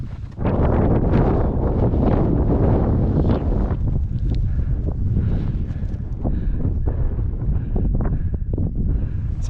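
Strong wind at a mountain pass buffets the microphone in a continuous roar, heavy and close throughout with gusty surges and no talk.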